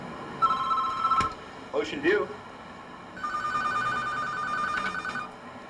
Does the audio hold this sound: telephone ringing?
yes